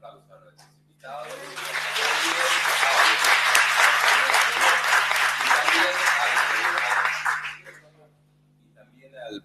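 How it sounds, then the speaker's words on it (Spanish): A seminar audience applauds its guests in a burst of dense, loud clapping lasting about seven seconds, which then fades out into near silence. "Vamos a dar un aplauso a nuestros invitados"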